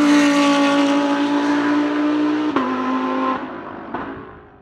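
A Toyota Supra GT4 race car at the Barcelona circuit, its loud engine droning steadily up close before upshifting with sharp drops in pitch and fading away.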